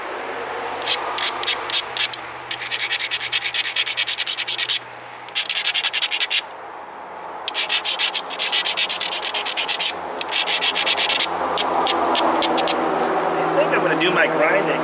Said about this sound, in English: Do my grinding with a hammer stone